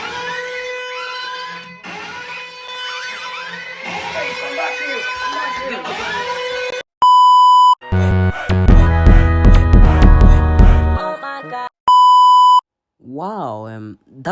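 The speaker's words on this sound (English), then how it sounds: "the alarm won't stop until you catch the toy" Electronic beeps and buzzing tones from the Wakey Wakey 9000 alarm system, loud repeated bursts and warbling tones following a stretch of voices talking.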